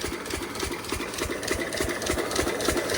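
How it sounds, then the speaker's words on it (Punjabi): An old engine runs a water pump motor with a steady, rapid thumping chug at an even pace, close and continuous with no voices. "ਵੇਖ ਸਕਦੇ ਜੇ ਇੰਜਣ ਹੀ ਰੱਖਿਆ ਹੋਇਆ ਯਾਨੀ ਕਿ ਪੁਰਾਣਾ ਤੇ ਮੋਟਰ ਪਾਣੀ ਵੇਖੋ ਕਿੰਨਾ ਕੱਢਦੀ"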